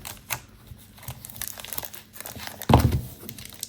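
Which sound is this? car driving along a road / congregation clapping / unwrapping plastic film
unwrapping plastic film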